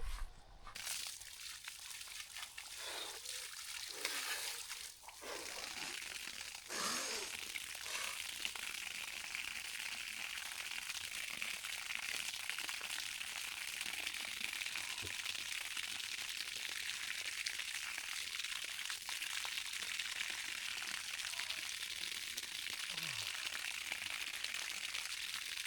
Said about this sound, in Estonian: panen vee jooksma.